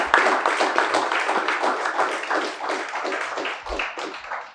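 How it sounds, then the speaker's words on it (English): An audience gives Ms. James a sustained round of applause at the launch of Saint Mary's College robotics program: dense, steady clapping from many hands that fills the room throughout. "she deserves a round of applause"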